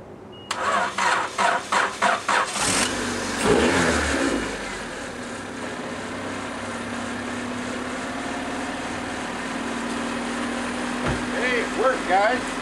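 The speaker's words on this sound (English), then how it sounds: "we're going to try starting this car right now." A car engine is started using a jump pack built from recycled laptop batteries: a quick run of rhythmic cranking bursts, then the engine catches and settles into a steady, close running idle with a little faint talk.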